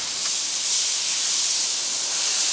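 Radiator cooling fans on a 2006 Chrysler Pacifica with the 3.5L engine run in the engine compartment, giving a steady, loud broadband whoosh with no break and no talking.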